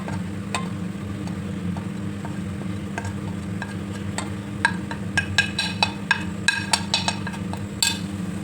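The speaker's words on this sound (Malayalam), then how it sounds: "നല്ലപോലെ ഇളക്കാം" Chili powder and Kashmiri chili powder masala for a salted dried fish pickle are stirred in a pan: soft continuous sizzle over a low hum, with a run of sharp spoon clinks toward the end.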